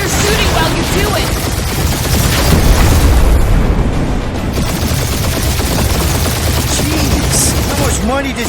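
Rapid bursts of gunfire in the Guardians of the Galaxy video game crackle densely and loudly over heavy impacts and explosions, a sustained chaotic firefight with brief voice fragments mixed in.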